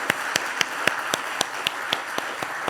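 A church congregation at a Korean Sunday service applauds in thanks, a steady run of evenly spaced claps over a soft room hum.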